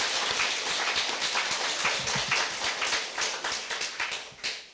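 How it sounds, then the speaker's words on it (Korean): A live audience in a lecture hall claps in thanks at a religious gathering, a dense spread of hand claps that holds steady and then thins into scattered claps near the end. "여러분 감사의 박수를 보내시고"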